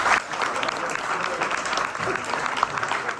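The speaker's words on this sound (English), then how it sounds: "So a round of applause for Ryan" A pub audience at a political talk evening gives a steady round of applause, a full, even wash of clapping that runs throughout.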